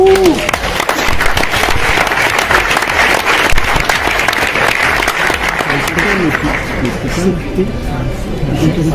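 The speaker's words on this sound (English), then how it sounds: "Please, a big applause." Dense, loud audience applause at the Safir Zenik Global Summit in Dubai, sustained rapid clapping that tapers slightly near the end, with crowd murmur and a voice mixed in.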